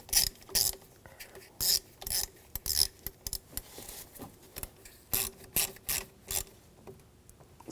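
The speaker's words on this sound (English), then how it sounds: "Get that lined up and then tighten that screw down." A ratchet tightens a screw on a starter bracket of a 2007-2013 BMW X5 3.0L inline-six, with rapid repeated clicking bursts in uneven strokes, close and crisp.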